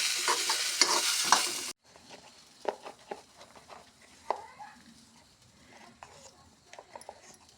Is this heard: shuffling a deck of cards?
no